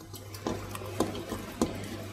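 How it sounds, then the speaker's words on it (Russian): A second bowl of bell peppers tumbles into a pot for lecho, heard as a few soft rustling, clattering thuds spaced about half a second apart, close but fairly quiet. "И вот теперь я высыпаю вторую миску перцев."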